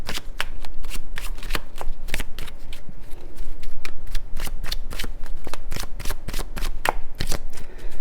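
A deck of tarot cards being shuffled up close, with a rapid run of crisp riffling snaps and flutters that continues steadily throughout, with no talking.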